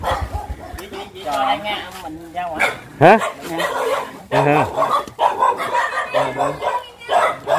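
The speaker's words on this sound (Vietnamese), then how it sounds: "trời ơi mấy chó quá trời ơi" Several dogs bark and yip loudly in a narrow alley in Sa Đéc, Vietnam, their barks overlapping with people talking nearby.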